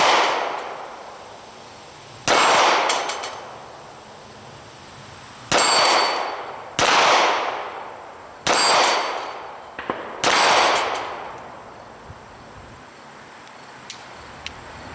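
Shots from a Ruger LCP pocket pistol fitted with a LaserMax laser ringing off steel targets, six loud metallic clangs at uneven intervals, each with a long ringing decay, plus a few small distant ticks.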